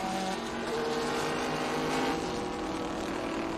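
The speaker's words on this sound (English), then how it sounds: "First generation F-body Camaro with the SCCA 5-liter power plant. Making about 350 horsepower" A first-generation F-body Camaro race car with an SCCA 5-liter engine roars loud and close on a vintage racing circuit, a sustained high-revving blare with no talk.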